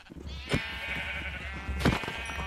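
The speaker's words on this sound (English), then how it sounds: "We have a little too many sheep here." Sheep in a Minecraft game bleating, two clear bleats about a second apart over a steady background of game sound.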